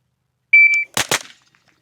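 A Gen 3 KRISS Vector firing two quick, sharp shots in close succession, right after a shot-timer beep, with nothing else heard around them.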